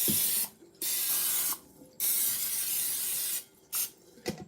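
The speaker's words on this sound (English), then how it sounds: "I'm spraying it with non-stick cooking spray" Non-stick cooking spray hisses into a bowl in several close bursts, some long and some short, separated by brief pauses.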